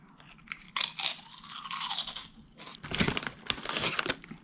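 Ketchup-flavoured potato chips crunched and chewed close up, with repeated bursts of crisp crackling and munching in an irregular rhythm and no talk over it.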